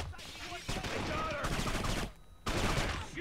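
Rapid gunfire from the video game Kane & Lynch 2: Dog Days, loud sustained bursts of shots with a brief pause between volleys, a sniper rifle in play.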